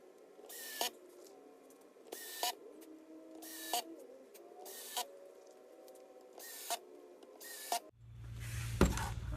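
A cordless drill with its clutch set low drives stainless steel screws into a soft cedar storage bench in six short, sharp bursts at regular intervals, with quiet gaps between them and a low rumble at the end.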